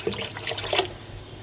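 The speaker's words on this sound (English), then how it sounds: "I still need another 2 cups of water." Water pours steadily into a pot of leek and potato soup already holding veggie stock, giving a soft splashing and trickling sound close by, with no voices.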